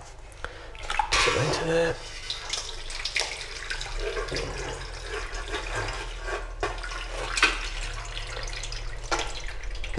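Cooked meat tipped out and strained, with its juice darkened by sherry vinegar splashing and trickling into a container, close and fairly loud; a voice speaks briefly near the start.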